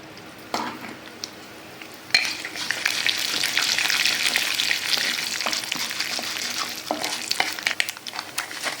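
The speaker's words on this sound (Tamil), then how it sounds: "இப்போ நம்ம கடுகு தோப்பு ஆட் பண்ணிக்கலாம்." Mustard seeds and urad dal dropped into hot oil for tempering a coconut chutney: a sudden loud burst of sizzling after a quiet start, then continuous dense crackling and spitting close by, with no talking.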